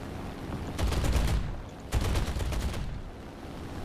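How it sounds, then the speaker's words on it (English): Cannon fire from a Bf 109 E-3 fighter in War Thunder: two loud, rapid bursts of automatic fire, each lasting about a second, with a short pause between them and steady engine drone underneath. "I'm just scoring hits with the cannon here"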